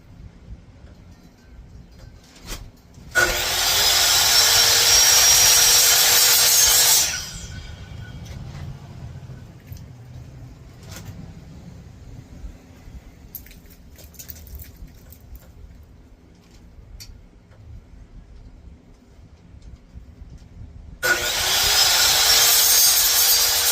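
A handsaw cuts a small piece of wood in two loud, steady bursts of rasping strokes, separated by a quiet pause with faint handling noises.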